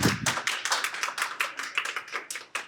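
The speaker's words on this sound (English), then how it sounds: "let's give Haley a round of applause." A small audience at an energy talk gives a short round of applause, individual claps distinct and uneven, close and moderately loud, fading as it ends.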